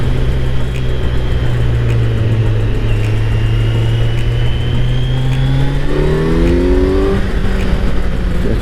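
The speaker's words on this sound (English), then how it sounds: "People driving too fast." A car's engine drones loudly and steadily nearby, its pitch rising and falling as it revs and accelerates along a narrow country road, with no talking.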